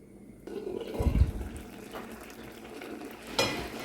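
Watermelon rind simmers in sugar syrup in a pot over a low flame, giving off a faint, steady bubbling hiss broken by a couple of brief clattering bumps.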